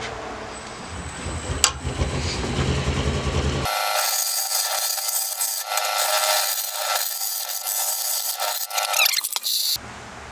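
An 18-inch wood lathe hollows a poplar urn, the tool scraping and rasping against spinning wood in a steady, close grind, with a brief knock early on and uneven scraping bursts toward the end.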